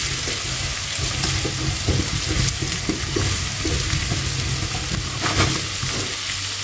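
Cauliflower pieces cook in a pan over medium-low heat, giving a steady, close sizzle with occasional stirring scrapes throughout.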